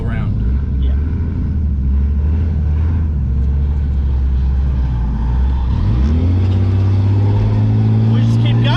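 A drift car's engine drones low and loud, then revs and climbs in pitch midway as the throttle comes back on, with a steady roar continuing close by.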